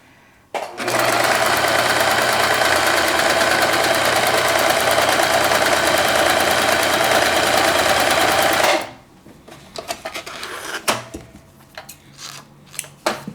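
A sewing machine stitches a seam on a quilted, foundation-paper-pieced mug cozy in one loud, steady whirring run of about eight seconds, then stops, leaving soft handling clicks and rustles.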